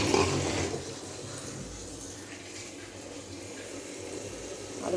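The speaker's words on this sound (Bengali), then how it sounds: "আর একটু ধুয়ে নিই।" Running water pours steadily while dried fish is rinsed at a kitchen tap, a moderate splashing wash with a brief louder burst at the start and no talking.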